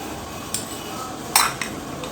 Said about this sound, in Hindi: और अब हम इसको अच्छे तरीके से मिक्स कर लेंगे